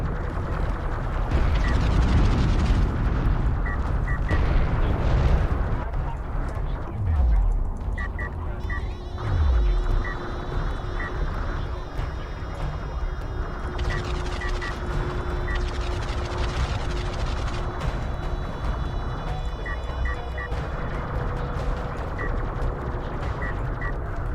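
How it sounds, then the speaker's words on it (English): A cruise missile explodes in the real-time strategy game Deserts of Kharak, a heavy rumbling blast within a dense, continuous wash of battle noise, engine drones and beeping interface tones that runs loud the whole way. "Oh, pretty good cruise missile there."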